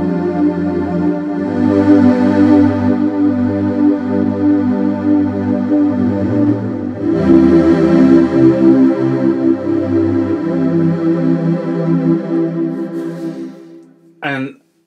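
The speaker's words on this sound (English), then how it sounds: "that's the Jupiter strings, a classic sound" A Roland System-8 synthesizer plays a Jupiter strings patch, lush sustained chords on an extended C swelling and shifting in two broad waves, loud and near, before a short click ends it.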